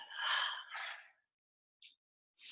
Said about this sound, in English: A little exhale.